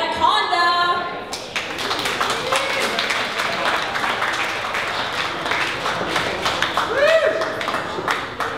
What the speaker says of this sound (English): Please give a warm round of applause to Brianna Conda.